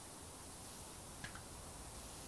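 A pressure washer sprays steadily while cleaning an old racecar in Powerwash Simulator, a soft, even hiss of water like white noise with a couple of faint ticks partway through.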